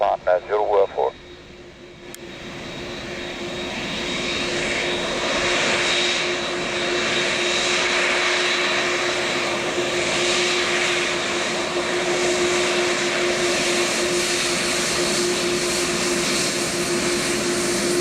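A Boeing 787-8 Dreamliner presidential flight rolls for takeoff at Geneva airport, a loud, steady jet engine roar that builds and holds, with a brief radio voice at the start.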